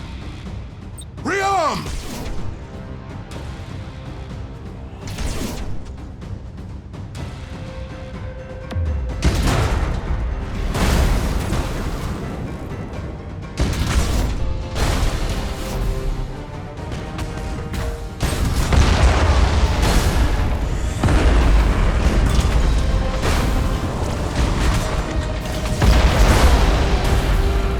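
Thunderhawk bombardment in the space strategy game Battlefleet Gothic: Armada 2: a run of heavy booms and crashing explosions over a constant low rumble, with a short spoken command near the start.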